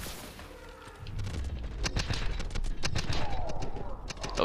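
Gunfire in Call of Duty: Advanced Warfare, a ragged run of sharp shots and bursts starting about a second in and continuing to the end, dense and fairly loud over a rumbling game soundscape, with a player speaking over it.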